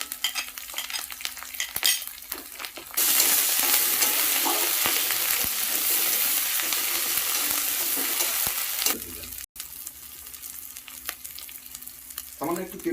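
Ginger and cumin paste frying in oil for a koi fish curry: a close, steady sizzle swells loud midway with stirring scrapes, then eases back to a softer crackle, no voices.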